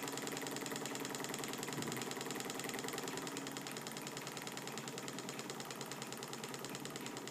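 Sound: Stirling engine running on a methylated spirit burner

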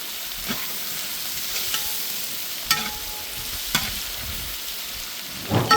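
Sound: cinnamon, cloves and cardamom frying with onions in hot oil

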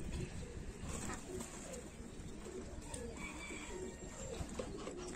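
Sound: pigeons cooing

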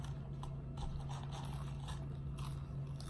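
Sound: biting and chewing crunchy onion rings

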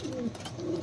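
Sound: pigeons cooing

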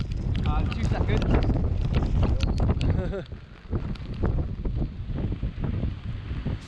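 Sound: strong gusting south wind on the coast

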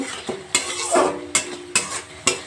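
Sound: stirring pumpkin kofta curry with sugar in a pan

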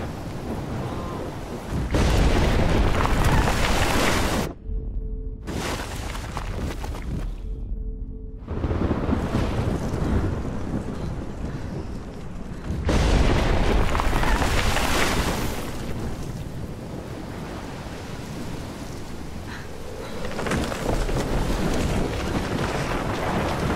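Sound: tornado storm in Life Is Strange (video game)

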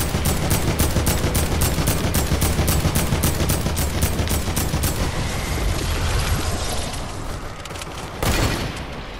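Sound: sniper rifle shots in the video game Fortnite

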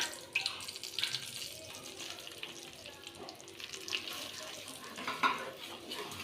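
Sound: stirring roasted gram flour in hot ghee

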